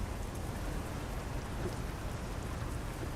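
Steady rain pours in the Euro Truck Simulator 2 driving game, a dense even hiss of drops on surfaces that fills the whole stretch with no talking over it.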